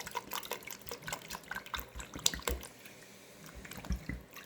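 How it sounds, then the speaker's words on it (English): Water splashes and drips into a pot of 1960s-style pot roast, a quiet, uneven run of pouring and trickling sounds with a few sharper splashes. "Add a little bit more water. Add some water in here."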